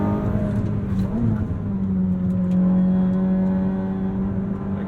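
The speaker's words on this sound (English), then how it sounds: "Aggressive downshifts." Ferrari SF90 Spider hybrid supercar in race mode with automatic gearbox, engine note rising and settling through aggressive downshifts, a steady loud in-cabin drone with pitch shifts, no talking.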